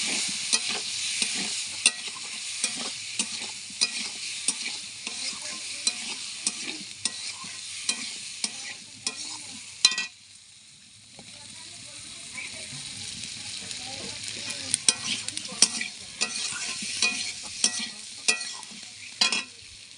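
Chili powder is stirred and sautéed in an oiled pan, making a steady close sizzle with rhythmic scraping strokes that pause briefly midway before resuming.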